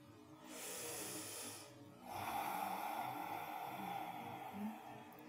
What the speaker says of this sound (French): dès qu'on contracte la gorge un petit peu, la respiration va devenir un son, comme des vagues de l'océan